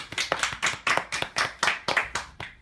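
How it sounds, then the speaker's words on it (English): A small classroom audience applauds a school group presentation with brisk, fairly regular clapping that lasts a few seconds, close and clear. "Let's give a round of applause for these 3 coming today."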